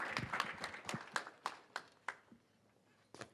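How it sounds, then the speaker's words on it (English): Scattered hand claps from a small audience at a real estate coaching event, about eight distinct claps spread unevenly and then fading into a near-quiet gap before one last clap. "Everybody give a big round of applause for our JMA family, these action takers"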